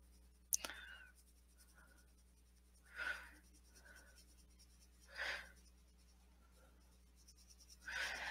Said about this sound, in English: it takes nothing just to go gently around it with the light blue pencil